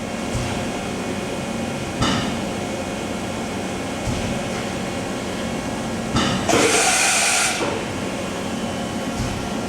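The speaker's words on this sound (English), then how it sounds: "Finding the tool, simulating a tool change." A Matsuura ES-550PC2 vertical machining center runs through a tool change under a steady mechanical hum, with a few faint clunks and then a loud hissing blast of air partway through.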